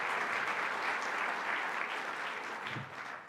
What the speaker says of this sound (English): One more round of applause for our State Senator